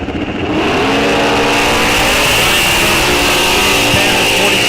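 Drag race launch at Rock Falls Raceway, a 1970 Corvette and a Cobra Jet Mustang leaving the line in loud, sustained roaring engine noise that quickly rises and fills the whole stretch, close and heavy.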